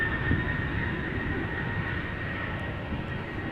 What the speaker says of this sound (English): So this is KLM flight 1783. Boeing 737-800 destined for Hamburg.